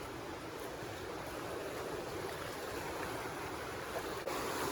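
Loud, continuous broadband rush of a swollen river flowing fast after heavy rain, a steady roar without pauses or voices.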